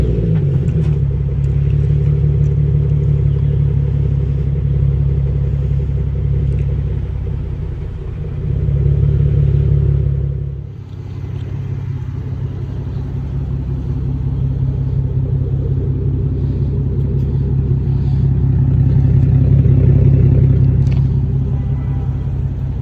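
Engine of a Z car idling steadily after a restart, a loud continuous low rumble with a brief dip near the middle before settling back to an even idle.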